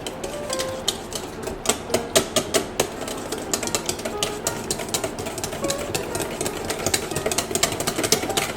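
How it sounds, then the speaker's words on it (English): Cake batter whisked hard in a bowl for homegrown-ingredient baking, with fast rhythmic clinking and tapping strokes that are loud and close, continuous and without talk. "You just whisk the crap out of it."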